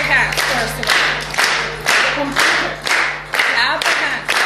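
A group of people clap their hands together in a presentation hall at an international conference in London, a run of sharp, fairly loud claps in uneven bursts repeating across the whole stretch with no talking over them.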